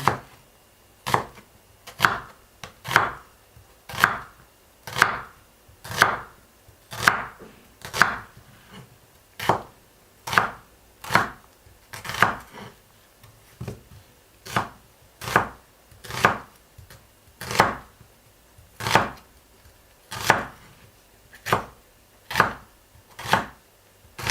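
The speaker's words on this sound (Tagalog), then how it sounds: "Okay, I will cut the spring onion. Okay, the big onion." A knife chopping spring onion and onion on a board, about two dozen evenly spaced, close, sharp chops in a steady rhythm, with no voices.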